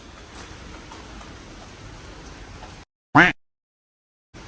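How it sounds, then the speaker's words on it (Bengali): Steady monsoon rain falls outside in the morning, a soft continuous hiss for about three seconds. It is followed by silence, then one brief loud thump. "বাইরে বৃষ্টি"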